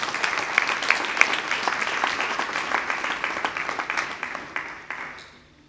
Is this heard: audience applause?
yes